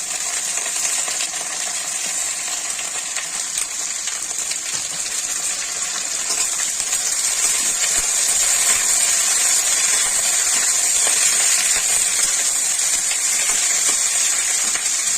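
Malabar spinach goes into a frying pan with potatoes, setting off a steady, loud hiss and sizzle that holds evenly throughout and swells slightly toward the end, with no talk.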